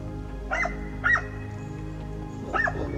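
Hunting dogs bark during a wild boar hunt in Tajikistan, three short, distant barks spaced irregularly over a low steady outdoor rumble.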